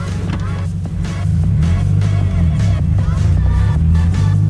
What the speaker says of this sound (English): I'm just gonna rev the car up just a little bit higher than normal, and we're gonna start to roll forward.